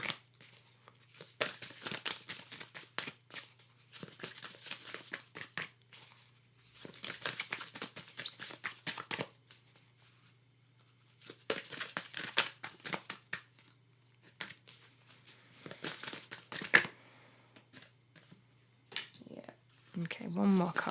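Tarot cards being shuffled in bursts of papery riffling and crinkling, several separate rounds with pauses between, fairly close and moderate in level, ending with a few brief handling noises.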